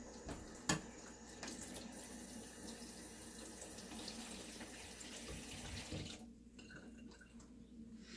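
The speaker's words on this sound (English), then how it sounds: "Gonna wash my can of tomato sauce." Water runs steadily from a kitchen tap while a can of tomato sauce is rinsed, a continuous splashing hiss with a brief knock near the start and the flow shutting off toward the end.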